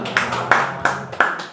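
An audience claps for Bu Dewi after her talk, a steady rhythm of hand claps roughly every third of a second over a continuous background hum, fairly loud and close.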